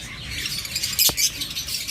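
Caged pet birds, new adult pairs around six to eight months old, give quick high chirps and tweets, fairly faint, with one sharper call standing out midway.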